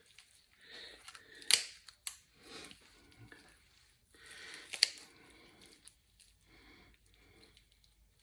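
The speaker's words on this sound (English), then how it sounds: "Just going to get my scissors under it and cut that out." Kitchen scissors snip through a raw turkey while it is being spatchcocked and butchered, with a few sharp crunchy cuts and soft wet handling sounds in between, close and intermittent.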